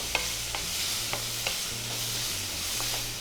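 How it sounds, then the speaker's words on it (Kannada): Tomato, garlic and green chilli frying in a pan, a low continuous sizzle broken by several light stirring clinks and scrapes at an unhurried pace, heard up close without talk. "ನೆಕ್ಸ್ಟ್ ಟೊಮೆಟೊ ಹಾಕ್ತೇನೆ. ಇದು ಜಸ್ಟ್ ಒಂದು ಫ್ರೈ ಆದರೆ ಸಾಕು ಅಷ್ಟೇ."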